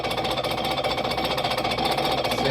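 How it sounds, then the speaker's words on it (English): Straight-cut cast iron gears whirr and grind on a Champion camel back drill press, a continuous dense mechanical rattle that holds steady and fairly loud throughout. "that sound is actually the sound of the gears. It's just two cast iron gears straight cut."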